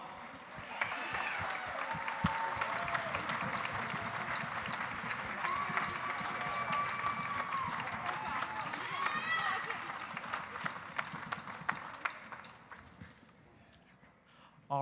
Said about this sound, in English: Please help me welcome them back with a big round of applause.